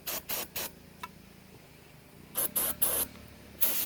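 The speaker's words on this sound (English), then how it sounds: "take the appropriate amount of starting fluid, spray it inside" Short hissing bursts of aerosol starting fluid sprayed inside a tire to set its bead, several quick puffs in a row, then a pause and another cluster of sprays, fairly close.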